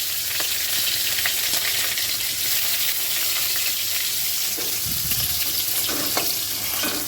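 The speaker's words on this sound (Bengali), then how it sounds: "প্রথমে রসুনটা দিয়ে দিচ্ছি" Chopped garlic fries in oil with nigella seeds in a kadai, a loud continuous sizzle with scraping stirring sounds throughout.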